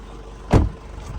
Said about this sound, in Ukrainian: Автомобіль заводиться легко, як ви бачите,